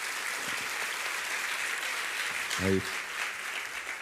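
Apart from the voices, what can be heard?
church congregation applauding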